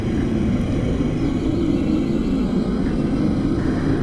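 A fighter jet flying in the Roblox game Build a Boat, heard as a steady, loud, continuous engine drone with no break.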